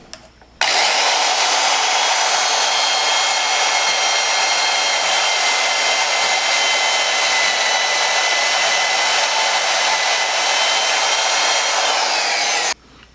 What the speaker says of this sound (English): Third cut, I'm cutting off one of the 2-inch marks.